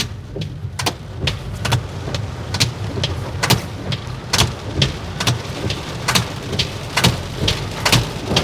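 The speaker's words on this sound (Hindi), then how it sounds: "बारिश कम होने का नाम नहीं है" Steady rain falls with heavy drops tapping and splattering at an irregular rhythm over a low, constant rumble.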